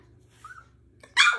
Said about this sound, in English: A bark.